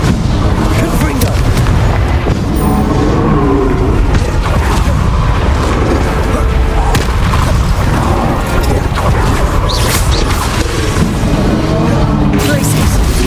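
Spell explosions in the Hogwarts Legacy video game, including Bombarda and Confringo, loud repeated booms and crashes in a dense, continuous barrage with a player calling out spells over the effects.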